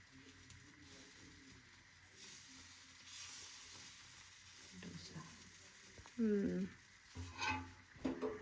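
Dosa batter on a hot tawa gives a faint, low sizzle in the background while people talk nearby, with a few louder voice bursts toward the end.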